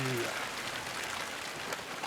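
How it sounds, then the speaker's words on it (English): Steady rain falling outside a workshop window, an even hiss of drops on surfaces that runs throughout, fairly close and constant. "This rain should stop fairly quickly."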